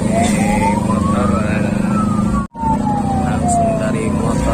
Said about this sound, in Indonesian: sekitar 100 motor.